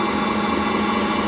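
A DCC-controlled model locomotive engine starting up, a steady, continuous mid-pitched engine drone with a faint vibrating rumble underneath, heard alone and fairly close.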